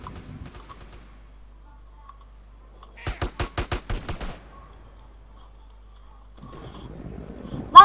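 In the multiplayer game MTA, a quick burst of about seven sharp gunshots rings out in the middle of an otherwise quiet stretch, with faint scattered noise before and after.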